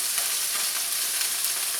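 A smash burger patty sizzles steadily on a hot griddle as it is pressed flat, giving a loud, even frying hiss with no pauses.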